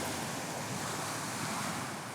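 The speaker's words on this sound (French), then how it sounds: "Le bruit des vagues." Ocean waves washing in a steady continuous roar of surf with some wind rumble, alone with no voices.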